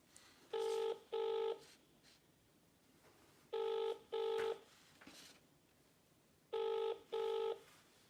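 Outgoing telephone ringback tone repeating in three double bursts, each pair of short electronic rings separated by a long silent gap, heard faintly down the line.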